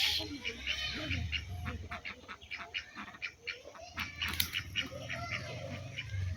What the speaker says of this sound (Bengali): ওই যে একটা হাঁস।